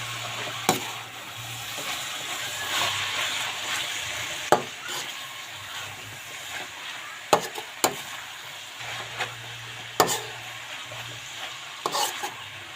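Chicken pastil cooks in a pan with a soft, continuous frying sizzle, while a spatula scrapes and knocks against the pan in sharp, irregular clacks.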